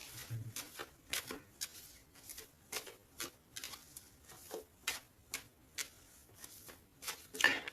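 A tarot deck is cut and shuffled, giving a series of soft, close, crisp card snaps and flicks at uneven intervals, faint and without talk.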